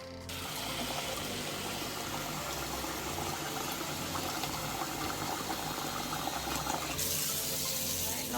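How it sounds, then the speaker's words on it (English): Steady rushing water and sloshing fill the clip as rice is swished and rinsed in a pot of water, continuous and close. "I'm going to wash it a third time."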